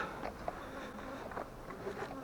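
Honeybees buzz steadily at an open hive, a close, continuous drone with individual bees passing by.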